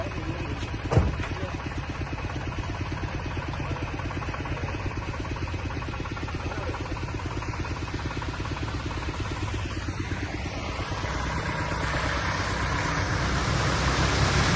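An auto rickshaw engine runs steadily through the ride, a continuous close rattling drone that swells slightly toward the end, with some talk over it.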